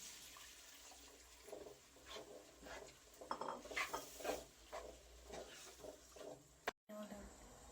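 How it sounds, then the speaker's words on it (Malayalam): Water is poured into a pan of cooked beef mixed with spiced paste for curry, a short splashing gush followed by softer trickles and a clink, fairly quiet and close. "ഇതിലേക്ക് ആവശ്യത്തിനുള്ള വെള്ളം ഒഴിക്കുകയാണ്."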